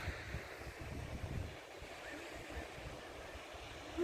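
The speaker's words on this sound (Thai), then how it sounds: "แต่ลมแรงมาก" Strong wind blows across the shore of Lake Illawarra in New South Wales, Australia, a steady low rumble of gusts buffeting the microphone with a faint wash of water in the background, no talking.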